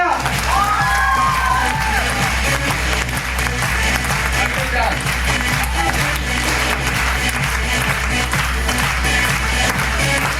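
An audience at a motivational talk in Ambikapur breaks into sustained, dense applause, many hands clapping loudly and steadily throughout, with some cheering and a voice briefly heard over it.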